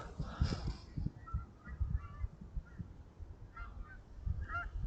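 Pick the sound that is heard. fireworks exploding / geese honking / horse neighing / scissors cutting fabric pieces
geese honking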